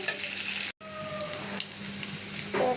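Narkeli fish frying with onion in rice bran oil, a steady close sizzle that stays loud throughout except for one brief silent gap near the start; no voices.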